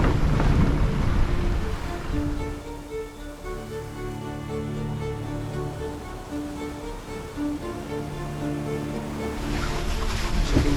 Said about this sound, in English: the boat is rocking around a little bit, so the waves are probably picking up